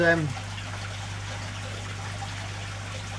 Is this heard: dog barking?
no